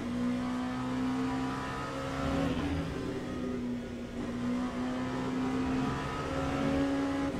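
A race car engine drones at high revs at Spa in Le Mans Ultimate, a steady loud tonal whine that dips briefly as the throttle eases, then climbs again.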